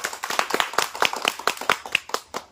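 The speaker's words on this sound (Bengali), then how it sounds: "একটা হাততালি হয়ে যাক।" Quick, bright hand claps ring out in a steady run of roughly a dozen, near and fairly loud, as children celebrate during a Ludo-dice balloon-popping game.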